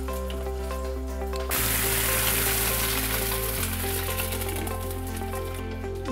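Eggs frying in fat inside biscuit cutters in a covered pan turned down to low, a steady loud sizzle and crackle that swells sharply after a quieter start and carries on evenly without talk.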